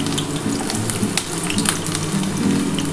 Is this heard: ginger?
yes